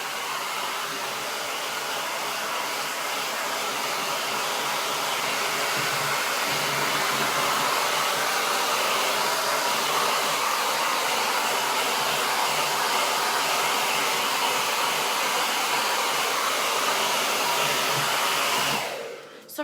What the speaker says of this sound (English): Sorry, my hairdryer is so loud